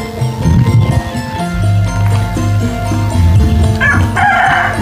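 A rooster crows loudly and close by on a morning in a Javanese village, its drawn-out call repeating over other fowl clucking in the background.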